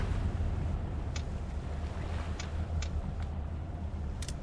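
Fishing boat engine in a North Atlantic fishing video game throttling back off the coast of Nova Scotia: a steady low rumble with wind and water wash running throughout, plus a few faint ticks, no voices.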